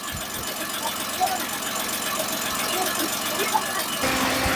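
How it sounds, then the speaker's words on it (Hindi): A car engine idles while warming up before an engine flush, a steady close mechanical hum and vibration with light knocking, under a brief voice near the end. "इंजन फ्लश ऐड करो उससे पहले इंजन का साउंड"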